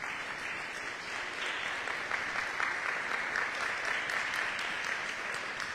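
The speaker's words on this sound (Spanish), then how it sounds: "Den un aplauso al Señor para que no se duerma." A church congregation claps during a sermon, a steady, dense applause sustained throughout at moderate loudness with no voices over it.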